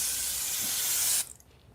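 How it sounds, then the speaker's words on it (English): Pink Magic cleaning foam sprays out in one steady, loud hiss lasting about a second and a quarter, then cuts off abruptly into quiet. "I'm going to spray some Pink Magic in."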